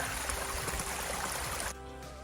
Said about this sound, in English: Got a nicely flowing little spring here. Going across the trail and creating a little creek crossing.